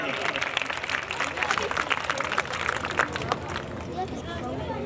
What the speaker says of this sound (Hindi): तालियों से स्वागत करें, जोरदार तालियां।